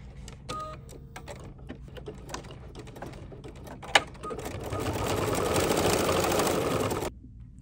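A sewing machine stitching fabric appliqué pieces onto a quilt block runs in a steady, even whir, preceded by a few scattered clicks and taps, close and moderately loud before stopping abruptly.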